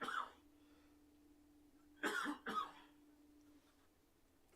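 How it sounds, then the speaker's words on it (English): A man coughs into a quiet room: a short throat sound at the start, then two sharp coughs in quick succession, close to the microphone, with a low steady hum underneath. "Excuse me a sec, I got a cough."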